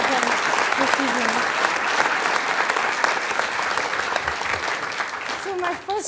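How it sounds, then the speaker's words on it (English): A panel audience claps, a thick sustained round of many hands at an evening event. A few voices call out and chatter under the clapping near the start and end. "So please, clap for them."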